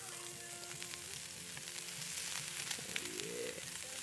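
Smoked meat sizzles on a grill over a campfire outdoors, a steady crackling fry with scattered pops and a faint scraping stir, heard close and alone.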